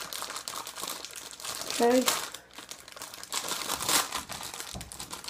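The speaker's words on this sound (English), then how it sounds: "So let's open up the second part of the package right now." Plastic packaging holding a rubber game controller crinkles and crackles as it is cut open with scissors, close and busy in bursts, while a person says a brief word.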